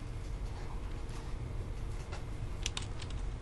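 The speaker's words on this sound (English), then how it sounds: "And then start typing in the date." Soft clicks of keys tapping on a computer keyboard come in irregular bursts over a low background hum, quiet and close.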